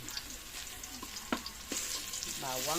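Garlic hits hot oil in a pan and sizzles, a close, hissing fry broken by a few sharp scrapes and clinks of stirring.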